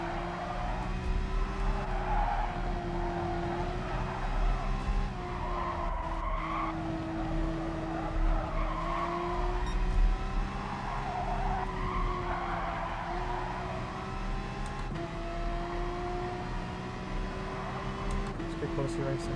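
Race cars in GT Sport roar steadily with drawn-out tire skids and squeals over a continuous engine drone, while a commentator talks on top.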